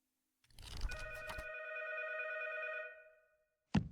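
Telephone ringing inside the video game 12 Memory Lane: a single long electronic ring lasting about three seconds, loud and close, with no talking over it.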